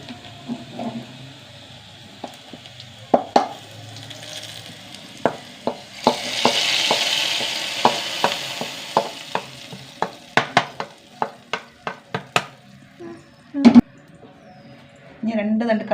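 Small shallots sizzle and fry in a pan for a Kerala-style dish, a continuous hiss punctuated by sharp stirring scrapes and clicks, close and fairly loud, with a brief stretch of louder sizzling in the middle.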